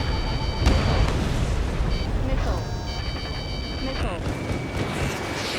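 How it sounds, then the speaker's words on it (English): Missile launch from an F-15E Strike Eagle in Ace Combat 7: a dense roaring rush over a steady jet engine drone, with sharp bursts and whistling tones layered through the dense cockpit mix. "Spare 15, launching missile"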